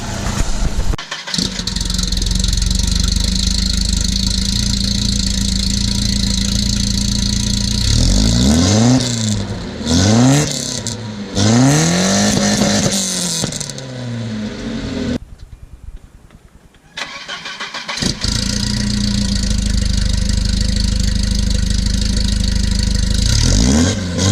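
A car engine with an upgraded cam idles loudly, then revs several times in quick rising and falling surges, briefly cuts out, and settles back into a steady rumble.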